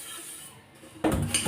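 A cooked-rice pot being washed, with a quiet stretch and then loud clattering of metal cookware and clinking utensils close by in the final half second, no talking.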